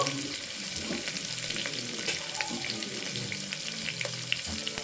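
Curry leaves and chopped onion frying in oil for a wedding-style brinjal dish, a steady close sizzle with scraping stirs and clinks running throughout, no talking.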